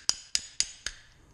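Four sharp metallic taps, evenly spaced, knocking rollers out of a Kingquad CVT clutch, each strike ringing briefly before fading into a quiet room.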